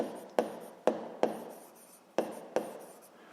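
A pen writes by hand on paper in five short, distinct strokes, each with a sharp tap at the start, close and quiet, with no speech.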